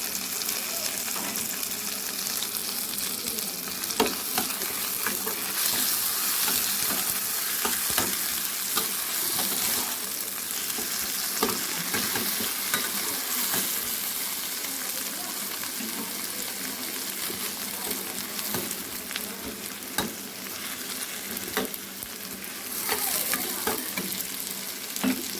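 A paste of ground cumin, ginger, garlic, chili and mustard fries in a pan with a steady, dense sizzle, stirred now and then with scraping clatters, loud and continuous throughout with no talking.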